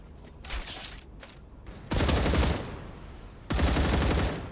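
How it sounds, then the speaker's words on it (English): Gunfire in the StarRupture video game: rapid bursts of automatic shots, a short scattered volley followed by two longer sustained loud fusillades. "Bullets going everywhere."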